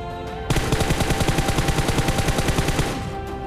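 Automatic weapon fire in the mobile game PUBG Mobile, a rapid sustained burst of gunshots lasting about two and a half seconds, loud and close with no speech.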